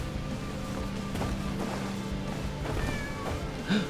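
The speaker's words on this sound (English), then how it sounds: "Cat music." Music built from cat meows plays faintly, with a sustained low tone and scattered thumps and clatter, ending in a short rising-and-falling meow-like cry.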